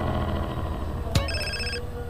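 A phone ringing inside GTA San Andreas: a sharp click followed by a single bright electronic ring tone, close and clear over a steady low game background hum.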